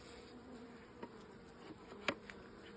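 Honey bees around an open hive with a super added, a faint steady buzzing hum with a few brief closer passes, one sharper flyby near the end; no talking.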